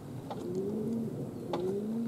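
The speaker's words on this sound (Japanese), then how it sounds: "屋根の上にいた鳥が飛び上がりました" Pigeons on a rooftop give two soft, repeated cooing calls, faint and slightly distant, against steady outdoor background noise with no talking.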